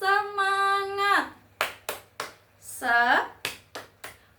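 A teacher and high school class chant a rising call between bursts of sharp hand claps in a quick rhythmic 'tepuk semangat' pattern, nearby and lively.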